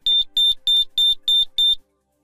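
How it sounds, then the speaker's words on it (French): Six piercing electronic beeps from a Diagral outdoor alarm siren repeat at a steady, rapid pace, loud and nearby, before falling silent. "des bips et des flashs pendant 5 secondes sur la sirène extérieure."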